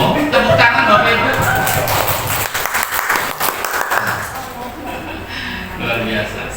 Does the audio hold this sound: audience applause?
yes